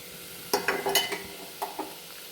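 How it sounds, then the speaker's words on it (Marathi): Spices are stirred in hot oil in a pot, giving soft sizzles and several short scraping stirs in a brief burst before the sound settles into a quiet hiss. "इथे मी हे भांड्यामध्ये तेल टाकून घेतलं यात सगळे हे मसाले टाकून घेते मी"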